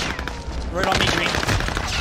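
Enemy gunfire in a video game, a loud, sustained fusillade of rapid shots close by that swells and thickens partway through, with voices talking over it.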